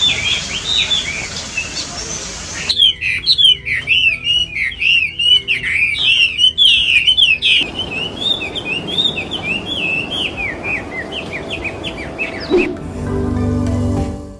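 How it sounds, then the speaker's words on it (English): A Chinese Hwamei sings a long, loud, clear run of rapid varied chirps and whistles, continuous for many seconds over a soft background hiss. "Chinese Hwamei is awarded a loud, clear, and long chirping sound."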